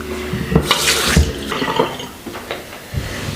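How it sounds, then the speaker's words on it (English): Cold tap water running and splashing as a face is washed at a sink in an evening skincare routine, with irregular splashes and drips close by. "I wash my face with cold water"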